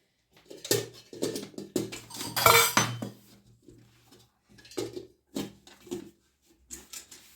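Copper pieces are wiped and set down on a shelf in a living-room corner, giving scattered metallic clinks and knocks in short bursts with quiet gaps, close by and moderately loud.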